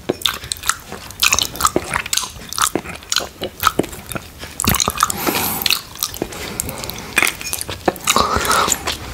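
A spoon scrapes and clinks against a bowl of mango sago pudding, with sticky, wet scraping strokes and soft squelches, very close and loud, with no talking.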